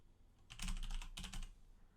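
Keys clatter on a computer keyboard while a command to launch the Anaconda Navigator is typed, in two quick close bursts of clicks separated by a short pause, with no voices.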